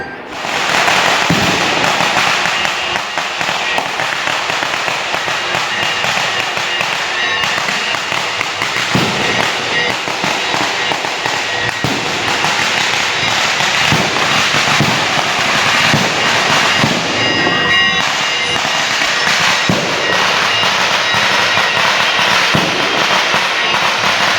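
Fireworks at a temple festival in Azhimala, a long dense barrage of crackling bangs and thumps, loud and continuous, with sharper reports standing out through the din.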